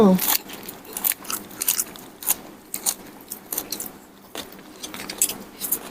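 A crispy fried egg is bitten and chewed close to the microphone, giving a run of sharp, crunchy bites and chewing noises in an uneven rhythm over a quiet background.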